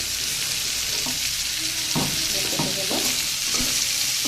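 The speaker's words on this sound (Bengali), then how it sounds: "বরবটি আলু ভাজতে ভাজতে অনেকটা কমে গিয়েছে" Long beans and potatoes frying in a pan, a constant close hiss and sizzle with a few soft stirring scrapes breaking through, loud and steady throughout.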